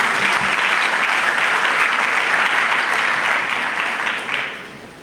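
An audience at an investment conference in Botswana applauds as a speaker comes on stage, a broad, even wash of many hands clapping that holds steady and then fades away at the close.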